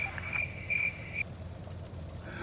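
Steady cricket chirps in pulsed bursts, fairly faint and close, over a low ambient hum in a World of Tanks Blitz battle, briefly dropping out before resuming softly.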